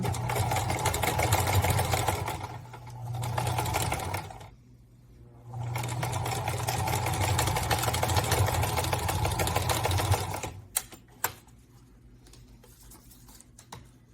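Sewing machine stitching a pleated fabric mask with elastic, running in long steady bursts with brief pauses and a short backstitch, then a few clicks as it stops.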